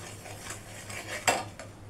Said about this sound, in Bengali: এটাকে সমানে নাড়তে হবে